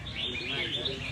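Songbirds chirp and trill at a bird singing contest in Vietnam, a dense steady stream of overlapping high calls close by, with a low murmur of background noise beneath.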